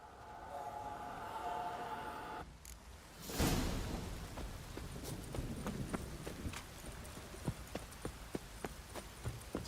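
A horse's hooves clip-clop in Witcher 3. After a whooshing burst, the hooves start as a steady, fairly close rhythm of distinct, regular footfalls over faint ambient background.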